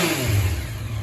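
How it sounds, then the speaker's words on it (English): A Yamaha MT-09 motorcycle with its stock exhaust gives a quick throttle blip, a close, loud engine rev that swells briefly and then settles back. "Do a little blip for you."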